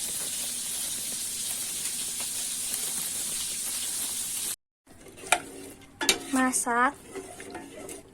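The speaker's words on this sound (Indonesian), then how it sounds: "hingga meletup-letup dengan diaduk terus" Coconut milk porridge (bubur sumsum) thickening over heat with constant stirring, a steady hiss and clatter that cuts out briefly before a spoon scrapes against the pot while a voice speaks.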